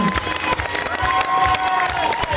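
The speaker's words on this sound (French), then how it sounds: "Je vous demande d'applaudir très fort les hommes de l'ombre, à la technique s'il vous plaît" An audience claps hard for the backstage technical crew at a thank-you ceremony held at a cinema in Beaumont-de-Lomagne. Dense, continuous applause carries a few voices mixed in.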